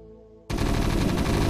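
Rapid gunfire bursts from a StarCraft Remastered battle erupt suddenly after a brief tonal hum, continuing as a loud, dense, sustained barrage of game weapon sound effects.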